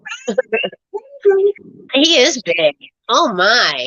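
A hungry house cat gives drawn-out, wavering meows that rise and fall, close by and mixed in with a person talking.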